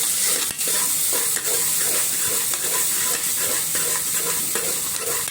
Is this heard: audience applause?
no